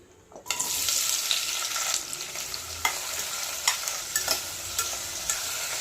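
Oil bursts into a loud, steady sizzle as two large chopped onions hit the pan, with occasional scraping stirs breaking through the constant hiss.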